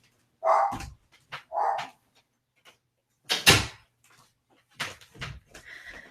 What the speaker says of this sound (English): My dog doesn't seem to stop barking.